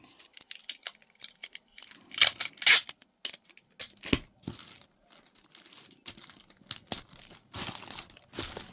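Packing tape is pulled and pressed down over a bag inside a reused cardboard box, making close, irregular bursts of crinkling, ripping and tearing with brief pauses between.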